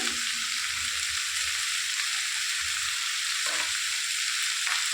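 Snails frying with ridge gourd, potato, eggplant, salt and turmeric in a pan, a steady loud bright sizzle with occasional soft stirring scrapes, close, with no talking.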